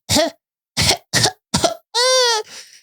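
An adult imitates an 11-month-old baby boy's mucusy, wet cough: four short, chesty bursts separated by pauses, then a longer, high-pitched wheezy tone, all close and loud with no other sound.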